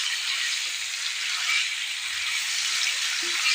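Potatoes frying in a pan for an Assamese taro leaf curry, giving a steady, loud, close sizzling hiss that runs without pause and has no talking over it.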